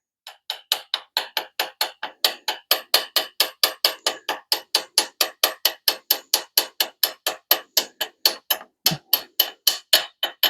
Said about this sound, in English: we're just lightly tapping it here.